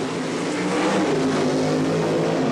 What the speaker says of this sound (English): The funny car of Frank Hawley, powered by a 500 cubic inch engine, also supercharged, also burning methanol